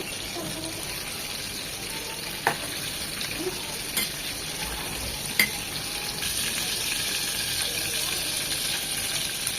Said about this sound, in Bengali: এই পাশটাও ঠিক এরকম 1 মিনিট ভেজে নেব